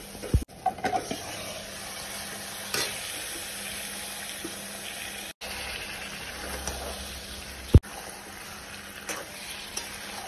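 Mutton pieces dropped into cooked spice paste in a pan, a moderate, steady sizzle with a sharp clatter near the start and another bump later, plus a brief dropout in the middle.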